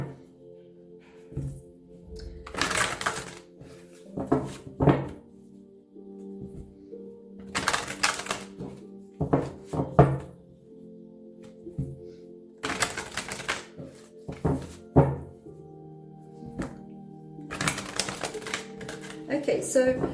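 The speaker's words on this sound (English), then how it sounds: "let's shuffle the cards" Tarot cards shuffled by hand in repeated bursts, each a few seconds of crisp riffling and flicking, with quieter gaps between and a soft tonal hum underneath.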